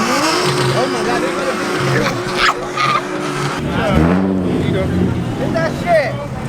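Engines revving and tires squealing amid a chaotic car meet crowd, with loud rising and falling engine tones over constant noise as people shout and talk nearby.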